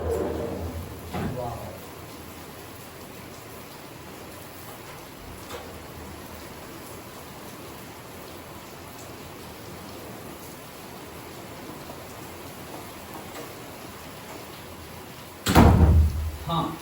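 Rain falls steadily outside an open window as a soft, even hiss, with a couple of knocks and a louder thump toward the end.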